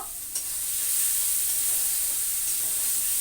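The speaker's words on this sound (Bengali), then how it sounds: "এটা সুন্দর করে ভেজে নেব ভালো করে এটা ভালো করে ভেজে নেব" Green chili and ginger fry in a pan with a steady, close sizzle and hiss. A soft scrape of stirring comes through under it, and no one speaks.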